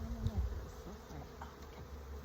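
Bees hum and buzz around frames during honey extraction, a close, steady insect drone with a few louder passes near the start, fairly quiet overall and free of speech.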